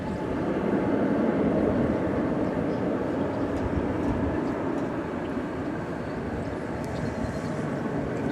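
An American Airlines Airbus A319 arriving from Monterrey, Mexico, rumbles in at DFW, a broad steady engine roar that swells early and then eases, heard from about a mile off under quiet background noise.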